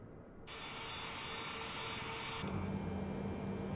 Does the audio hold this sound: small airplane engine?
yes